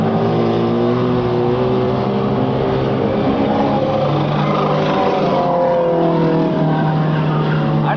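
Race cars roar around an oval track coming out of turn four, a loud, sustained engine whine with shifting pitch as the pack passes close by, continuous with no break.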